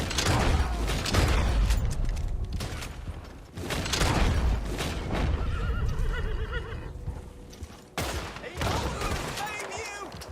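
A horse in Red Dead Online neighs and whinnies loudly several times amid clip-clop hoofbeats, mechanical clatter and gunfire-like bursts, with someone talking over parts of it.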